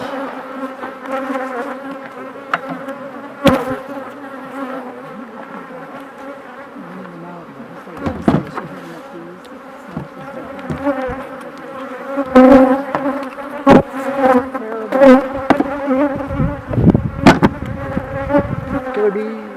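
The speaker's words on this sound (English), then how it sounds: "Killer bees." Dense, steady buzzing from a crowd of honey bees swirling around an open hive during a treatment-free hive inspection, with sharp knocks and bumps of handling over it and no talk.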